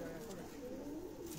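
Flying pigeons kept on a rooftop loft coo softly, a low continuous murmur from several birds nearby, with someone talking over them.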